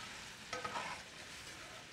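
Tequila sizzles in a hot cast iron pan with salmon, a faint hiss that briefly flares and then settles into a quiet, steady crackle.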